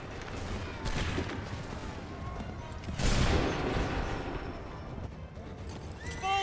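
Massed musket volleys in Assassin's Creed III crackle across a noisy battlefield, with a big crash of fire in the middle and horses among the din, fairly distant and rolling.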